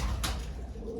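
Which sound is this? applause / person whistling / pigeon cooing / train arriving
pigeon cooing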